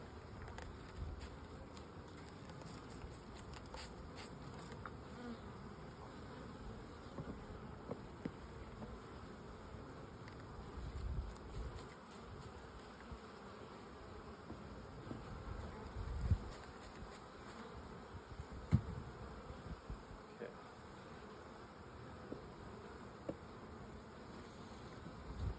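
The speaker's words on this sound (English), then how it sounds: "I got bees working in all of these down through here." Honeybees buzzing around established hives while frames are checked, a faint, steady outdoor hum of many insects lasting the whole time, with occasional soft knocks and handling sounds nearby.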